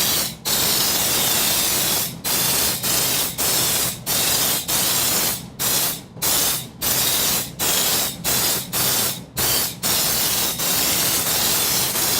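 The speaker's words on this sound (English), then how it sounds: "Hold the gun at approximately arm's length, 6 to 8 inches from the vehicle, and begin spraying." An air spray gun run at about 50 to 70 psi sprays undercoating onto a vehicle in loud, sustained hissing bursts, with over a dozen short pauses where the trigger releases, close and unaccompanied by speech.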